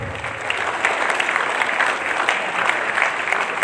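A seminar audience gives steady, dense applause, a continuous roar of many hands clapping at an even level from start to finish.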